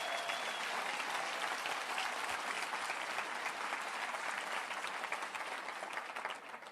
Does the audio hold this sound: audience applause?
yes